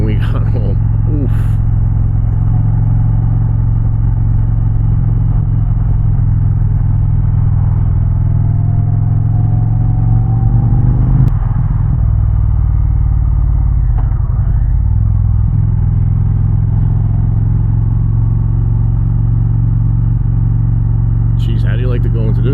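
An Indian Challenger motorcycle fitted with a Rinehart exhaust runs steadily, giving a loud continuous low rumble that swells and eases with riding, with a rider's voice over it.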